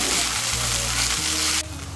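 Flattened rice is tossed and stirred with vegetables in a hot pan, giving a steady close sizzle with soft scraping, then a sudden drop to quieter frying near the end.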